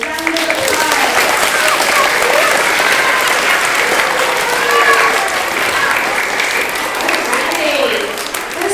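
First graders receive a loud, sustained round of applause at a school ceremony, with dense clapping from a crowd lasting several seconds and faint voices mixed into it.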